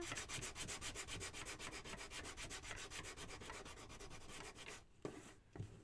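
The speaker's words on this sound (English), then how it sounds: "So we're going to sand this one." Wooden flower piece from a DIY flower pot house kit sanded by hand: fast, even, rhythmic rasping strokes up close, ending with a few soft knocks.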